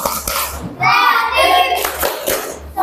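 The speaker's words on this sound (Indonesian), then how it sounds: "Tepuk kelas 5." A fifth-grade primary school class claps in rhythm while chanting together in unison; sharp hand claps punctuate loud, close group voices in a classroom.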